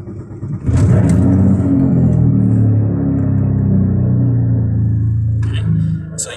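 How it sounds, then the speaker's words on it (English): A car engine cranks and catches, then revs up loudly close by before settling into a steady idle that holds for several seconds. "Let's go ahead and start up the car"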